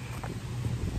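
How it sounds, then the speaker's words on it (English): Wind gusting across a cemetery, a steady low rumble of wind buffeting the microphone, loud and continuous through the whole short stretch with no voices. "Sorry about the wind, y'all."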